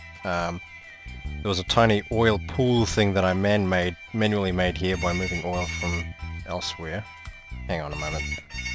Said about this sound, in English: That was the phone. IRL.